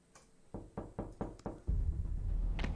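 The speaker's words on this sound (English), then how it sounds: "who's knocking?" Knocking on a door in the Spider-Man Remastered video game: five quick, evenly spaced knocks at moderate volume, followed by a low rumbling game ambience.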